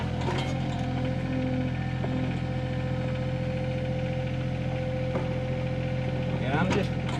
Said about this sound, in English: the excavator does great.